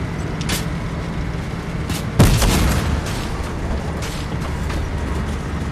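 A Fortnite gunfight heard from some distance: a few scattered shots, one louder sharp blast in the middle, set against a steady vehicle-like rumble.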